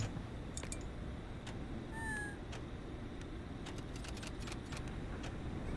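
A single short cat meow from the video game Next Week at Freddy's rises briefly over a steady, dense background hum, with a few faint clicks scattered around it.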